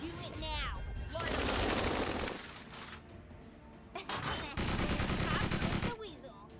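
Bursts of gunfire and explosive impacts from a Tiny Metal battle, loud and dense across two long volleys with a shorter shot between them, while voices talk over the shooting.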